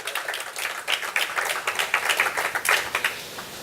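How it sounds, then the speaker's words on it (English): Audience applause following a programming talk, a dense run of hand claps from a room of listeners, steady and fairly loud for several seconds with no talking over it. "Oh, you can clap."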